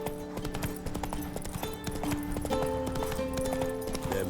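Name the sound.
Roach the horse's hooves clip-clopping, from video game The Witcher 3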